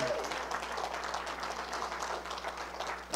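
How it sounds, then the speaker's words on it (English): Church congregation applauding together at a worship service, a steady dense wash of hand claps held at moderate level for the whole stretch with no pauses. "Let's give God a hand clap for Susan."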